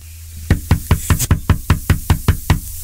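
Knocking on a door during a radio show broadcast: about eleven firm, evenly spaced raps over a low background hum, close and loud, with no voices.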